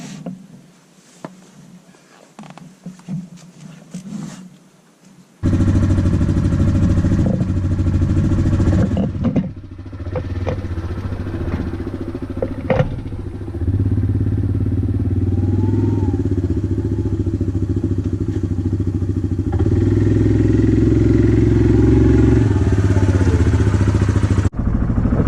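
A Yamaha Grizzly ATV engine starts after a quiet stretch of faint handling noises, then runs loud and close on a test ride with a steady, rumbling drone and occasional clattering shifts in pitch.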